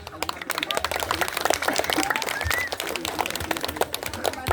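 An audience claps dense, continuous applause at a Christmas carol event, loud and close, with voices mixed into the crowd noise.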